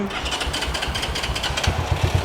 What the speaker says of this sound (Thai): ต่อให้เป็นพีเดเตอร์ซิ่งๆ แบบนี้นะคะ ก็ยังสตาร์ทได้ง่ายๆ แบบนี้